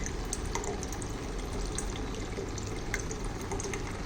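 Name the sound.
water flowing from RO water purifier outlet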